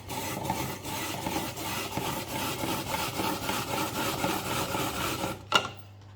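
Carrots are grated in a hand-cranked rotary grater, a continuous rough rasping and rubbing texture with a low hum underneath, steady and close, ending in a brief knock followed by quiet.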